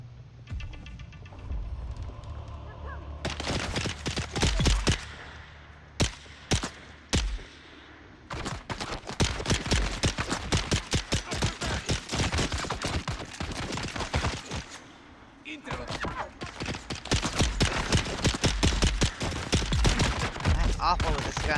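Rapid gunfire bursts in Dune Awakening, loud bursty volleys starting after a quiet hum, broken by short pauses and resuming in sustained stretches.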